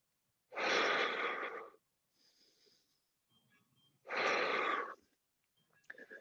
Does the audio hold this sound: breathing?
yes